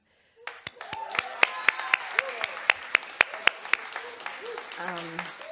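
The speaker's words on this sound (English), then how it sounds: "So give them a round of applause" A scattered round of hand claps rises from a small audience at a university event at UC Santa Cruz, sharp individual claps standing out at a steady rhythm while a voice talks over them throughout.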